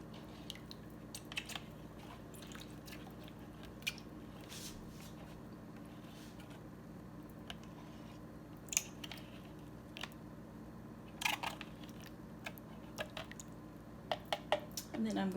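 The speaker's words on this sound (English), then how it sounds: "I'm just going to stir that up so it dissolves." Quiet, scattered clinks and light scrapes of a utensil stirring aluminum sulfate in a container to dissolve it, sporadic and faint against a low background hum.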